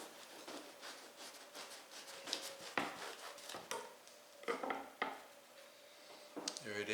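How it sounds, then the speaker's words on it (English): A serrated knife saws through a crusty homemade Kaiser roll, making a series of close, scratchy, crackling strokes with short pauses between them, and a few light knocks against a board. "let's cut into this using a serrated knife here"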